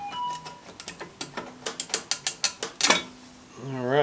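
A ratchet wrench clicks in a quickening run of sharp, evenly spaced ticks while the nut comes off a Coleman BT200X engine flywheel, close and loud, ending with a brief metallic clank and a short voiced sound.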